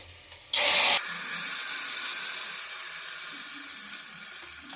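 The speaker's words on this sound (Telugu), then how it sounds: "అప్పుడే మిక్సీకి కొట్టిండే మసాలా దీంట్లోకి వేస్తున్నాను" Freshly ground masala hitting a hot pan for a lentil-based rasam, a sudden loud burst of hiss and spatter that settles into a steady close sizzle.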